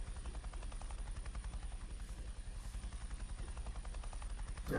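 A helicopter in a flight simulator video game, played in virtual reality, passes a ship with a steady, loud rotor chop and deep engine rumble that fills the clip without pause.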